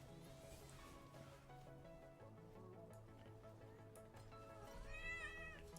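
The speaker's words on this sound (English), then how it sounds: "Hi, kitty." A cat meows softly near the end, a short rising call over steady music and game sounds.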